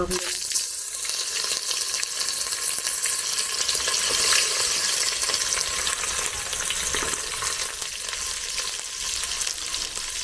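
Sliced onion fries in hot oil seasoned with bay leaf and cinnamon over a wood-fired stove, giving a loud, continuous hiss and crackle of sizzling up close, steady throughout.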